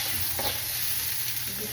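Garlic and onion sauté in a pan with a steady, close sizzle and brief stirring scrapes, loud and continuous with no talk over it.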